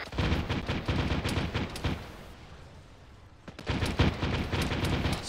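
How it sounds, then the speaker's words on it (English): Heavy weapons fire in the video game ArmA 3: dense, rapid bursts of gunfire, loud and close, break off into a quieter lull before the shooting resumes just as hard. "We're taking heavy weapons fire from the east."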